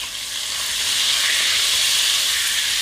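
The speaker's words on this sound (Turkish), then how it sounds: "1-2 dakika kısık ateşte sarımsakların tamamen lezzetini bırakmasını bekliyorum." Garlic sizzles in sunflower oil over low heat, a steady, close, bright frying hiss that holds evenly throughout with no voices.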